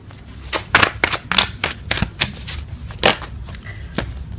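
A tarot card deck is shuffled by hand in a quick series of sharp, crisp riffles and slaps, irregular bursts close to the listener with short pauses between them.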